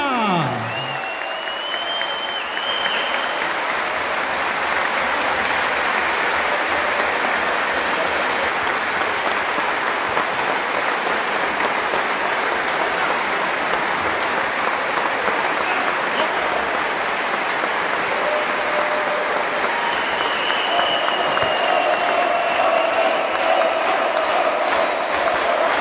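Sustained, loud applause and crowd cheering from an audience at a basketball player's farewell game in Užice, steady and dense for the whole stretch with whistles and shouts mixed in.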